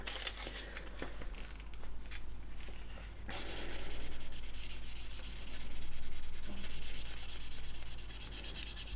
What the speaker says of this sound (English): here I am sanding it